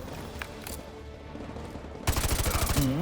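In the video game Call of Duty: Modern Warfare 2 Campaign Remastered, a quiet, rumbling stretch gives way to a sudden burst of rapid gunfire, loud, close and sustained as a fast volley of shots.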